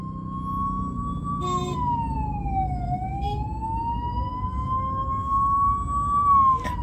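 A wailing ambulance siren glides slowly down and back up in pitch, steady and fairly close, over a constant rumble of road traffic.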